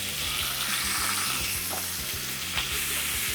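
Sliced pork frying in hot oil in a pan for ginger pork, a dense, even sizzle that holds close and loud throughout.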